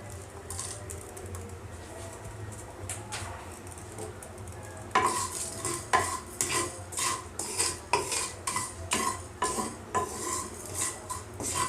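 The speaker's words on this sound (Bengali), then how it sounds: "এগুলো মোটামুটি রোস্ট হয়ে আসলে, একটু ভাজা ভাজা হয়ে আসলে তারপরে আমি এগুলোকে মিক্সি করে রাখবো।" Whole coriander, cumin, fennel, cardamom and dried chillies dry-roasting in a pan, with quiet scraping at first, then a rapid run of sharp spoon-stirring scrapes and rattles against the metal, close and fairly faint.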